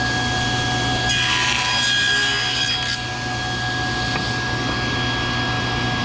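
A table saw cuts wood corner trim, its blade biting in with a loud, steady whining rasp for about two seconds over a constant motor hum, then easing off as the saw keeps running.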